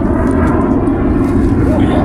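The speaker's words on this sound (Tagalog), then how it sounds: "Hindi po kami makapagsalita ng ayos kapag dumadaan yung jet. Jet fighter." A fighter jet passes overhead, producing a loud, steady broadband roar that fills the whole clip. The setting is outdoors near a jungle river.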